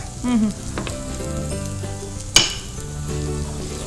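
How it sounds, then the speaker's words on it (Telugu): Maida flour fries with garlic in a pan, a moderate sizzle with soft stirring scrapes and one sharp clink of a utensil against the pan midway. "ఇప్పుడు ఇందులో నేను ఒక 2 స్పూన్ మైదా వేస్తున్నాను. ఓ అలానే డైరెక్ట్గా ఫ్రై కావాలి."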